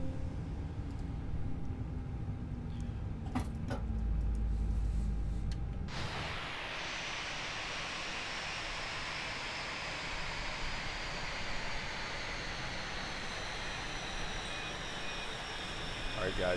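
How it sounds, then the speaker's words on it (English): Airliner jet engines winding down after taxi: a loud steady turbine roar with a high whine that drops in pitch, then a sudden shift around the middle to a broad, even rushing hum as the engines spool down, with a voice briefly under it. "Go ahead and go taxi light off, and we'll kill our engines"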